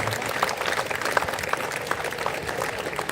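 A crowd at a convocation ceremony in Mumbai claps steadily, scattered individual hand claps blending into moderate applause that continues throughout.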